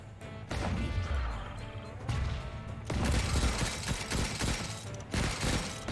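A flak cannon fires repeatedly in the Stranded: Alien Dawn video game, loud booming bursts and crashes arriving in rapid clusters across several seconds of combat.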